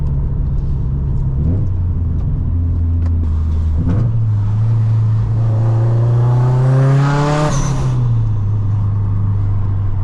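A Subaru STI engine revs hard, its pitch climbing steadily to a loud, ear-piercing screaming peak before dropping back to a rumbling idle, with no talking.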